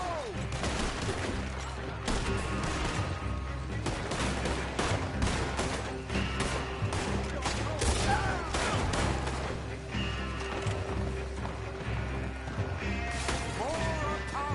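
Gunfire during a shootout in Red Dead Redemption 2, scattered sharp shots and crashes over several seconds, mixed with shouting voices and background score.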